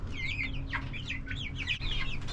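Chicks in a homestead coop cheep and cluck in quick high-pitched bursts, several birds overlapping close to the listener against a steady low background hum.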